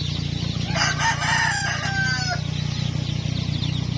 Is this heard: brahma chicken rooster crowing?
yes